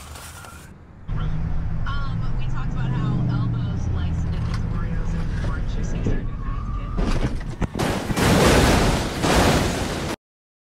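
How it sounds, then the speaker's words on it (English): Car crash recreated in Roblox: an automated voice speaks over engine hum, then loud noisy impacts and crunching bursts near the end before an abrupt cut to silence. "A crash has been detected."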